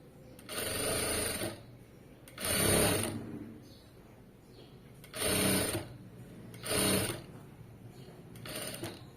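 A sewing machine stitches thread piping in four short straight runs separated by pauses, each burst a loud rapid whir that starts and stops cleanly over a quiet room.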